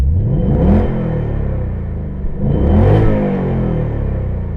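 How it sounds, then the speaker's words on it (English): A Ford Mustang GT Fastback with a 5.0-litre V8 set to sport mode revs twice in quick succession, each loud, close blip rising and falling over a deep, rumbling idle. "Give it a quick rev."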